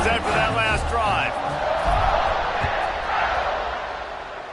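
A stadium crowd roars in the college football video game CFB 26 during a kickoff after a touchdown drive, a dense sustained cheer with whoops, heard under a commentator's voice.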